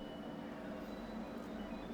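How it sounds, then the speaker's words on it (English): A train pulling into a station in the video game Pokemon Sword gives a steady, quiet low rumble and hum with no distinct clanks or whistles. "The train to the Isle of Armor has arrived."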